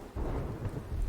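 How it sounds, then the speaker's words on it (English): Toned-down thunder rumbles low and steady in the video game The Infected, with rain hissing over it, moderately quiet and continuous throughout. "the thunder has been toned down"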